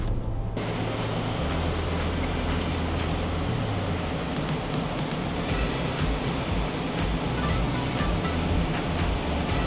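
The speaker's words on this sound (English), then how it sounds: "Here's kind of the bigger waterfall you can see up here." A steady roaring rush of falling water fills the scene, loud and continuous like a nearby waterfall, with no talking.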